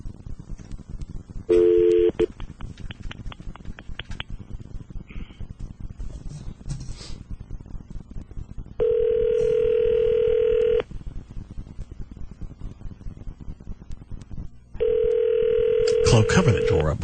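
A landline telephone gives a steady dial tone, followed by a burst of rapid dialing beeps and then more long steady tone blocks, with talk around them.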